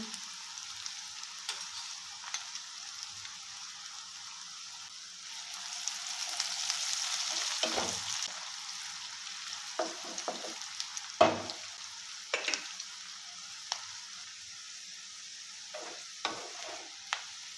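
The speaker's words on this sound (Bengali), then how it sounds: "পেঁয়াজটা আমার ভাজা হয়ে গেছে" Chopped onion frying with a little salt in a pan. A soft, steady sizzle runs under repeated scraping stirs, and a louder burst of frying rises midway, with no talking.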